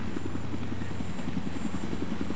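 Helicopter in the Battlefield 3 video game, a steady close rotor chop with a rhythmic low thumping pulse and constant engine whine running throughout.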